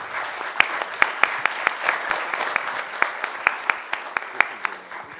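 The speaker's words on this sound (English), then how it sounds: "Let's give them a round of applause." A room of people at a city commission meeting applauds, sharp individual claps ringing out in a steady, moderately loud patter that continues throughout.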